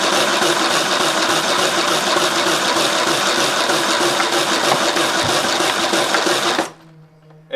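A crude homemade 4000 psi high-pressure air compressor pumping steadily in first gear, a loud continuous mechanical chugging hum with rapid rhythmic strokes that cuts off abruptly near the end, leaving a faint low drone.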